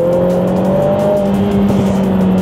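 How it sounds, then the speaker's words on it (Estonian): A Lotus Emira's four-cylinder turbo engine runs steadily just behind the cabin, a loud, continuous drone with a low, even hum and no talk. "see mootor, see elu käib sul selja taga,"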